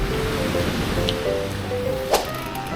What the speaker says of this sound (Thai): คลื่นแรงนิดหน่อย